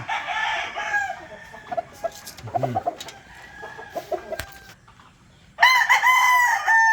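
Chickens on a Filipino farm during feeding, with scattered clucks through the middle and a loud rooster crow at the start, then a long crow again toward the end, close by.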